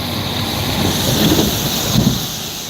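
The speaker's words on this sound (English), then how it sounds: "we'll let this big truck pass by" A big truck passes on a downtown street at night in McHenry, its loud, steady rumble filling the whole stretch with a slight swell in the middle.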